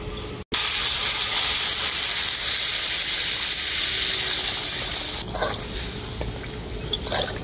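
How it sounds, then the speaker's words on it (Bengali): Water poured into hot, well-fried masala for a pabda fish curry gravy gives a loud, steady, hissing sizzle that surges at once and keeps going, then eases into a quieter bubbling crackle near the end. "এখন এর মধ্যে দিয়ে দেবো আমি পরিমাণ মতো জল ঝোল করার জন্য"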